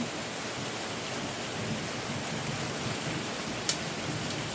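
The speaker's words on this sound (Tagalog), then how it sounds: "Ulan na naman." Steady rain hisses evenly, a constant wash of fine patter with one faint click partway through and no voices.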